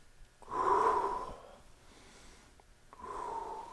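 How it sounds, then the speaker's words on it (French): Two deep, slow breaths taken together during a parent-and-child karate session at home, each a long airy inhale or exhale heard up close, separated by a brief pause. "On fait les grandes respirations."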